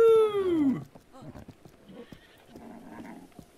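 A royal horse in the video game Breath of the Wild gives one loud, close whinny with a falling pitch, then quieter hoof clatter and game sounds follow.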